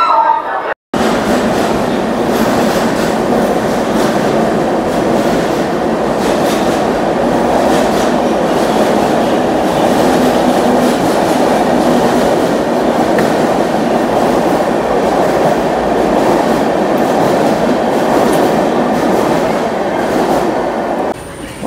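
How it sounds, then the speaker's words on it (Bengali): The Kamakhya–Anand Vihar North East Express pulls out of New Alipurduar station. A loud, continuous rumble of rolling wagons with rhythmic clickety-clack of wheels on rail joints runs unbroken and close by after a brief opening jolt. "ট্রেন আমাদের ছেড়ে দিল।"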